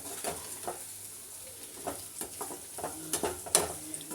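Cauliflower frying in a pan, a soft steady sizzle broken by light scraping stirs and occasional clinks, close but fairly quiet, without talk.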